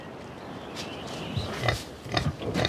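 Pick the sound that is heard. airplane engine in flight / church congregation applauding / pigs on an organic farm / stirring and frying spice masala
pigs on an organic farm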